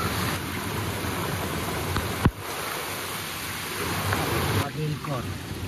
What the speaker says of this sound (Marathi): परत पावसाने हजेरी मारलेली आहे. पाऊस परत सुरू झाला.